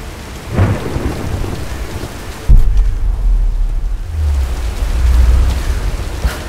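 Rain and thunder roll through a stormy scene in the video game Tomb Raider (2013). A sharp thunderclap lands partway through, followed by a long loud rumble over steady heavy rain, with no speech.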